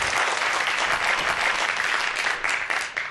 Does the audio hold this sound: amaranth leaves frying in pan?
no